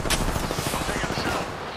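Rapid, loud automatic gunfire from Apex Legends ranked play, a dense close-range burst of overlapping shots.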